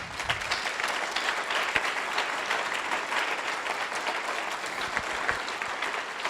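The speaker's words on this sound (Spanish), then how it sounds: "Si le vas a dar el aplauso, dáselo fuerte a Dios." A church congregation applauding during a service, a dense, sustained wash of clapping from many hands that continues evenly throughout without a break.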